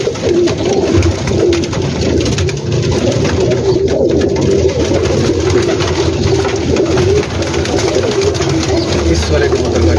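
Pigeons coo in a dense, continuous chorus on a large Gujranwala rooftop kept by a pigeon fancier, soft throaty calls layered close together, with someone talking over them and a faint engine hum beneath.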